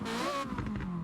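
Ferrari F40 V8 engine revving in Forza Horizon, a brief, steady, fairly loud rising engine note heard alone.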